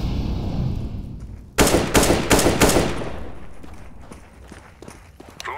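Enemy rifle fire in Counter-Strike: Global Offensive arrives as a rapid burst of sharp, loud shots, followed by fainter scattered footsteps and clatter.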